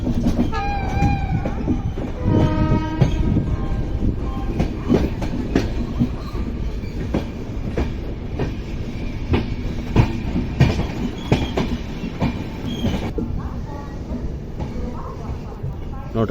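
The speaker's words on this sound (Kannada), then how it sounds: "CR ಸೋಲಾಪುರ ಜಂಕ್ಷನ್ 5ನೇ ಪ್ಲಾಟ್ಫಾರ್ಮಿಗೆ ಬಂತು ರೀ." The Hassan–Solapur Express, train 11312, pulls into a platform at Solapur Junction with a steady loud rumble and rhythmic clickety-clack of wheels on rails, and a voice talks over it throughout.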